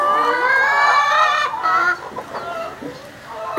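Chickens cluck and squawk loudly up close, a dense harmonic burst at first, then scattered softer clucks from several birds.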